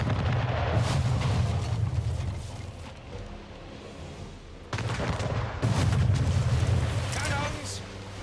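Naval cannons boom during a ship battle in Anno 1800. Deep, rumbling blasts roll on almost continuously, swelling again after a brief lull, loud and dense.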